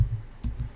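A few quick keystrokes on a computer keyboard, close and soft, three light clicks within a second.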